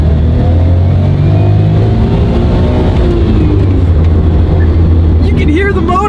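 Cabin sound of a car accelerating in second gear at around 40 km/h, a loud, steady engine drone with a rising pitch, heard from inside the car while someone talks over it.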